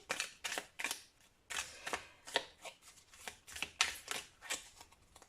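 Tarot cards being shuffled and drawn, crisp papery slaps and riffles coming in quick uneven bursts, close and fairly loud, with no one talking.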